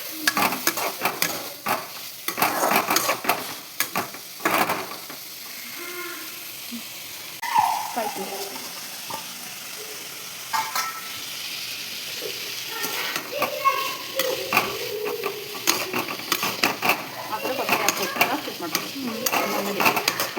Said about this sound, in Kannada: ಈಗ ಬೀನ್ಸು ಕಾಳು ಚೆನ್ನಾಗಿ ಗೋಸ್ಕೊಳ್ತೀವಿ.